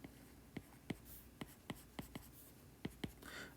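An equation being written out during a physics lecture on gravitational potential energy, about a dozen crisp, close taps and strokes in an irregular rhythm against a quiet room, with no talking.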